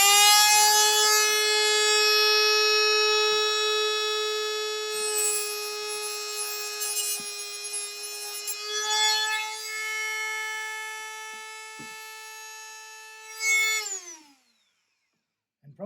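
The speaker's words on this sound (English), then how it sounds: "So use your Dremel, or actually you can bend it back and forth if you don't have a Dremel." A Dremel rotary tool cuts through thin metal with a steady high whine that dips in pitch under load, with a few brief ticks of contact, then winds down and stops near the end.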